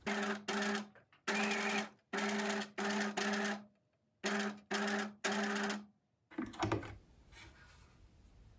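A sewing machine runs a straight stitch through fabric in several short, even bursts with brief pauses between them. It is close and loud, then a clatter of handling follows as it stops.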